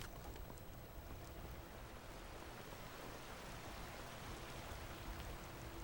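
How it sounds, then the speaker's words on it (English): Soft, steady rainfall patters in Whiterun in Skyrim, a constant gentle wash of drops with no talk over it. "on beautiful rainy day here in Whiterun"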